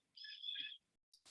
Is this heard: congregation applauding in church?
no